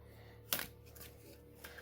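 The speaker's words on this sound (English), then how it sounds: "I'm going to give these guys a shuffle here." Rune cards being shuffled by hand: a sharp riffle burst in the middle, then soft papery rustling and a second lighter flick near the end, faint and close with no talking.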